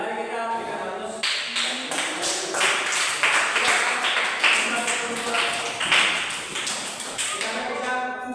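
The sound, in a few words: classroom applause for a student group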